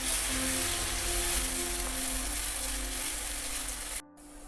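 Finely chopped onions sauté in oil with cumin and ajwain for chole, a steady broadband sizzle held close and even for about four seconds before it stops abruptly.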